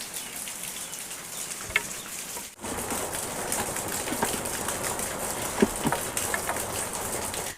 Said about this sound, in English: It's lucky for me it's raining